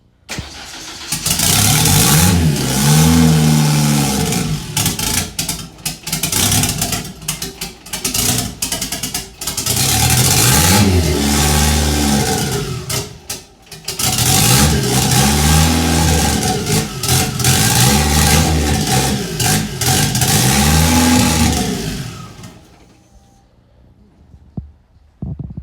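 A turbocharged Ford Ranger engine revs hard in repeated loud bursts, rising and falling several times up close, then cuts off, leaving near silence at the end.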